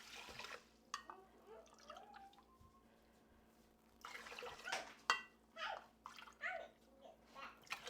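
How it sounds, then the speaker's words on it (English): Water poured into a pot of rice at home, splashing and trickling in uneven bursts with drips and sloshing, fairly faint, while a voice chatters in the background. "I'm just going to add my water in."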